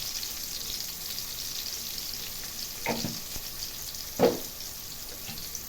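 Tomato and onion with turmeric sauté in a pan with a soft, steady sizzle, broken by a couple of sharper stirring clatters near the end.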